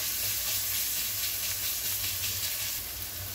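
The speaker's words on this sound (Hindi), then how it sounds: "ऑनियन को भी थोड़ा अच्छे से फ्राई कर लेंगे।" Onion fries in a hot pan for soya vegetable rice, giving off a steady, close sizzle and hiss of oil without a break.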